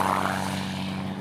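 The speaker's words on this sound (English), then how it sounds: "took their short takeoff and landing MAWL aircraft" A Maule short takeoff and landing propeller plane drones steadily and fairly loud, its engine and prop holding an even hum throughout with no talk.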